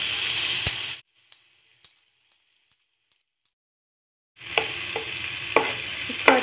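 Ginger, garlic and green chili paste fries in a pan with curry leaves and mustard seeds for sabudana vada, a close sizzle with stirring scrapes that cuts out to near silence for several seconds, then returns.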